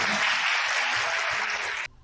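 Guests at a Korean wedding applaud as the bride places a ring on the groom's finger, a dense, steady wash of clapping from a crowd that cuts off abruptly near the end.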